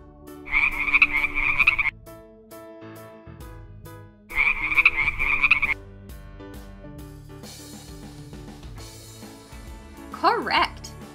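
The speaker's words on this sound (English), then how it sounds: "Correct! It's a frog." A frog croaks in two loud, rapid bursts of raspy pulsing calls separated by a pause, set over light background music in a children's animal sounds quiz.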